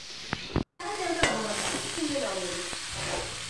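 Potatoes sizzle as they fry in a pan, a soft continuous crackle with a few sharp utensil clicks and a brief dropout near the start, no talking.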